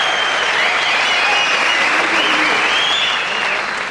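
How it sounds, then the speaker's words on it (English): A boxing match crowd breaks into loud, sustained applause and clapping that fills the hall, fading slightly toward the end. "the crowd applause there indicates they considered your performance very brave"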